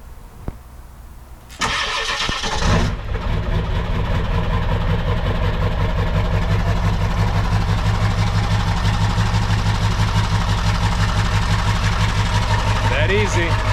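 A Ford 7.3 diesel engine cranks briefly after a few quiet clicks, catches, and settles into a loud, steady, rumbling idle that continues to the end.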